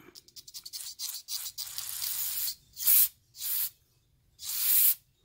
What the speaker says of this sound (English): So we keep work around in there and get our brake clean. Watch your eyes, but should see two spouts